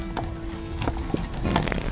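A horse walking along a trail on Mackinac Island in Northern Michigan, its hooves giving a close, uneven clip-clop of several steps, with a faint snort or whinny-like sound amid light background noise.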